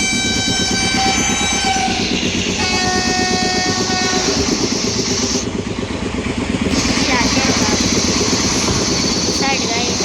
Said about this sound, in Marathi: इथे गर्दी लागलेली आहे ट्रेन जाणार म्हणून